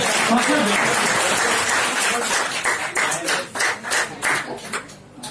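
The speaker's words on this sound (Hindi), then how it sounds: "नवनीत के लिए जोरदार तालियां" An audience at a quiz competition claps for a contestant, a burst of dense applause that thins into scattered, uneven claps and fades out over a few seconds.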